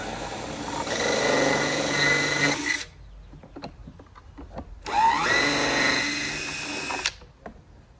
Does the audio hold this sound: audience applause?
no